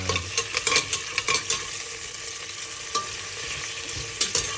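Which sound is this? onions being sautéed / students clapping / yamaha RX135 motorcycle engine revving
onions being sautéed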